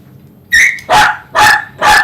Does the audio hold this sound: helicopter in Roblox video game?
no